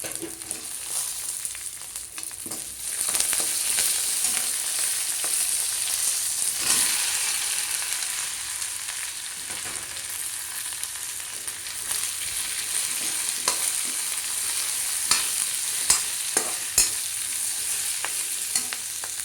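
Onions fry in a pan with kasuri methi and curry leaves, a continuous soft sizzle with intermittent stirring scrapes and a few sharper taps near the end, close and without speech.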